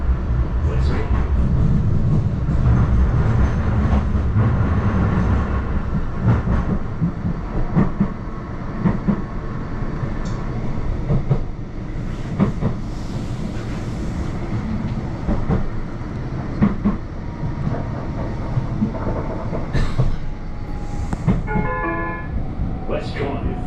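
A Blackpool tram runs along the seafront route between Starr Gate and Fleetwood Ferry, its steady interior rumble and rattle continuing throughout, with clicks and a few brief higher squeals or chimes near the end.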